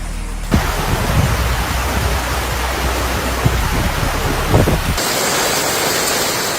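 Torrential storm rain pours in a dense, steady roar, loud and continuous with occasional gusty bursts, and the texture shifts near the end.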